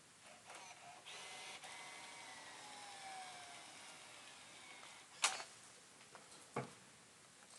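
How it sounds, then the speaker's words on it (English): Banknotes feed into a bill validator on a Raspberry Pi cash unit, a faint, steady mechanical whir of motor and rollers ending in two sharp clicks. "Now I'm inserting banknotes."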